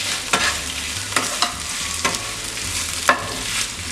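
Sliced tomato hits hot oil in a pan for Bengali khichuri, a soft continuous sizzle broken by several sharp clacks of a spatula stirring and scraping, close by with no talk.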